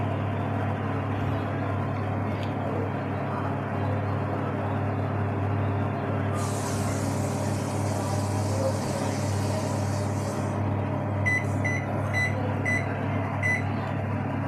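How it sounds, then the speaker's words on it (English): A microwave oven baking a rum plum cake in a glass-lidded dish hums steadily and closely throughout, with a short series of electronic beeps toward the end. "this I will be keeping it in the microwave oven."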